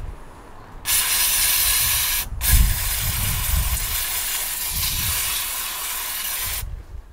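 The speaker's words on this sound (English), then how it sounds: "We've got specific mass airflow cleaner which doesn't leave a residue to make sure it's absolutely spotless." Mass airflow sensor cleaner sprays from an aerosol can onto the sensor of a SEAT Leon, a loud, steady hiss lasting several seconds, broken by one short pause, then a long continuous burst before stopping abruptly.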